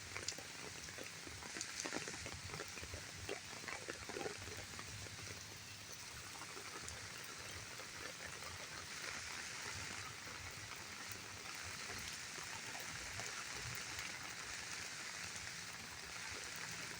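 Steady rain falls across an empty park, a dense even hiss of drops with scattered patters on surfaces, continuous and fairly close throughout, with no voices.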